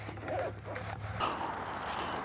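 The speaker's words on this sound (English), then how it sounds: "you just slide this right back in and give it a quick zip up" A zipper is pulled shut on the soft carry pack of a FireMaple Saturn 15,000 BTU gas stove, one quick close zip followed by a short rustle.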